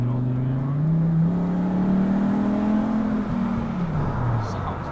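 A Volvo T5 engine with an upgraded exhaust revs and drones loudly, the exhaust note rising and falling over a few seconds, with a voice faintly underneath.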